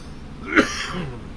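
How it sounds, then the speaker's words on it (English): One short, sharp cough or throat-clear, close by, with quiet background hum. "I'm sorry about the coughing, guys."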